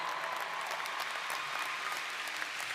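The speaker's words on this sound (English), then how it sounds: "Give them a round of applause" Audience applause at a university baccalaureate ceremony, a dense steady clapping from a large crowd, moderately distant, lasting a few seconds.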